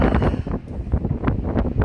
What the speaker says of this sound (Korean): 바람은 사정없이 불고 있어요